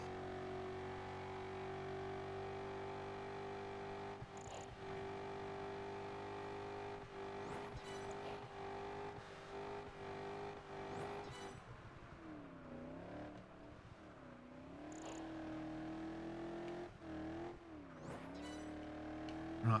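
Racing car engines in the Project Gotham Racing 4 video game, a steady drone that climbs and drops in pitch as the car revs and shifts through corners, with brief tire skids and no talking.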